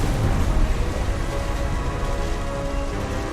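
Heavy rain and rumbling thunder fill a storm scene in What Remains of Edith Finch, a dense, steady downpour with low rolling thunder underneath, loud and continuous.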